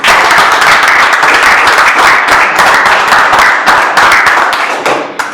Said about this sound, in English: Please, a round of applause.